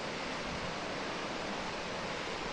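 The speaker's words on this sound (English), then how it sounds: "you can hear the river gushing away below" A river gushes far below a narrow hiking trail in the Sierras de Cazorla. It is a steady, even wash of rushing water with no breaks, heard alone.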